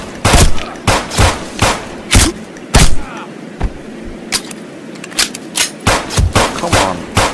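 Gunfire in the sniper video game Lonewolf: a rapid string of loud, sharp shots, clustered early and again toward the end, with a quieter gap between.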